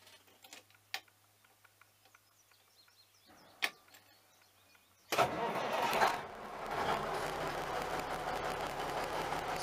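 Semi truck engine starting after quiet ticking and a few clicks, then settling into a loud, rough, steady diesel rumble close by.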